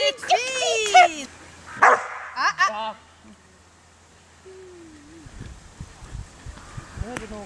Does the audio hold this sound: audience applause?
no